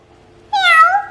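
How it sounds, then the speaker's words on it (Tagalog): A cat gives a single loud, close meow lasting about half a second, rising then falling in pitch, against near silence. "Baby cat. The baby cat's drinking milk. Meow."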